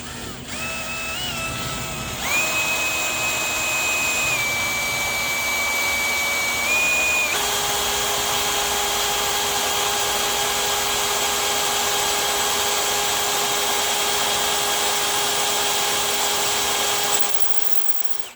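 A drill bit driven by a Redmax GZ7100 two-stroke power head, its engine holding a steady high-pitched whine that steps up and shifts in pitch while boring, loud and continuous throughout with no pauses.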